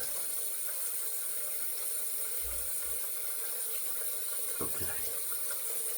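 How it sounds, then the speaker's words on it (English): Tap water runs steadily into a bathroom sink during a wet shave with a safety razor, a constant hiss close by, with a brief spoken word and faint handling noises. "Sorry, I got the water running"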